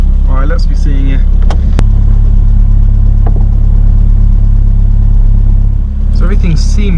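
A classic Mini car's engine idles loud and close in a steady low drone, while someone talks over it near the start and again near the end, with a couple of sharp clicks in between.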